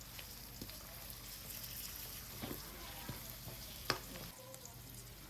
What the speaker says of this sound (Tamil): வெங்காயம் கொஞ்சம் நல்லா வதங்கி வரட்டுங்க